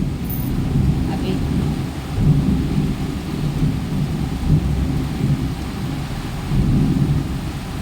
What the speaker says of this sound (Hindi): क्योंकि इतना तेज बादल गरज रहा है ना, बहुत डर लग रहा है